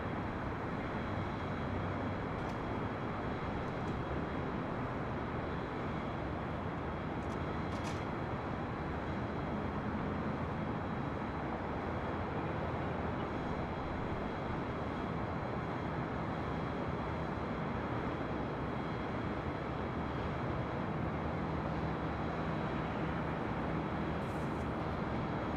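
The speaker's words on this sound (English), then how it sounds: "And that was American Airlines Flight 582 heading to Philadelphia. See, this is what I'm talking about. The 787-8 Dreamliner." An American Airlines Boeing 787-8 Dreamliner at LAX: a faint, continuous, broad roar heard from a distance, holding steady the whole time with no speech over it.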